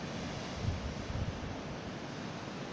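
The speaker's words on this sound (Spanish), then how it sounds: "se debería escuchar el ruido del mar" Sea waves wash steadily onto a beach at night, a soft continuous roar of surf with faint low rumbles, distant and even, no voices.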